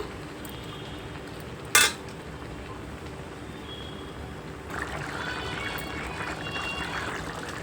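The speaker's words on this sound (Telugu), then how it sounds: "మూత పెట్టుకుందాం." A lid goes onto a pot of ridge gourd curry with one sharp metallic clink, followed by a steady background hiss. The hiss thickens into a soft simmering bubble a few seconds later.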